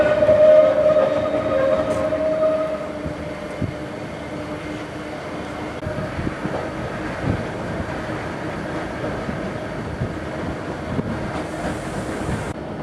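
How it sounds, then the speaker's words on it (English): A slow mountain train climbs from Lauterbrunnen to Mürren in Switzerland, with a steady rumbling hum and faint rail clatter heard from inside the carriage and a brief tone near the start. "little train trip from Lauterbrunnen to Murren is stunning"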